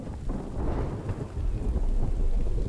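Thunder rumbles loud and continuous over steady rain during a storm in the survival video game The Infected, a deep sustained roll with no voices.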